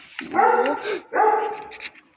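A dog in a survival video game gives two close, loud whining barks in quick succession, each about half a second long, with faint clicks after.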